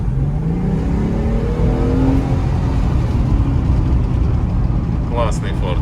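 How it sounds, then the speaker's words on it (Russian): A petrol Ford car engine runs and revs up, its pitch climbing and then settling into a steady, loud drone close by. "Хороший бензиновый Ford, едет просто прекрасно"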